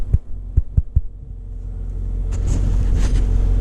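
A personal car's engine cold-starting in snowy February weather: a few heavy low thumps at first, then a steady idle rumble that builds and holds close by.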